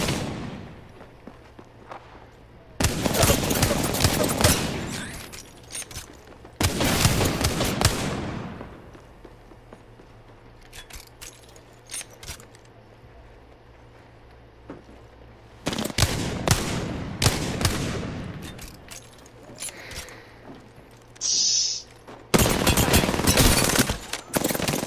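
Video game gunfire in four long, loud automatic bursts separated by quieter stretches of background ambience, with a few faint isolated shots between the bursts.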